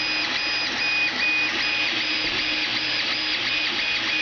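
An Ender 3 3D printer runs steadily, its stepper motors whining and buzzing in a continuous mechanical drone with recurring tonal chirps, close by and free of talk.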